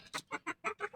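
Chickens being fed cluck in a quick run of five short, close calls at a steady rhythm.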